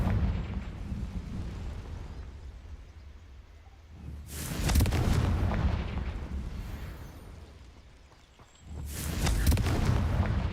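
A Confringo blast spell fired in Hogwarts Legacy erupts as two loud, broad booming bursts a few seconds apart, each rushing in suddenly and trailing off, over a steady rumbling game background with no talking.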